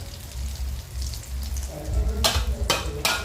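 Cha-om (acacia) omelette frying in oil over low heat, a steady close sizzle with three sharper, louder crackling bursts near the end.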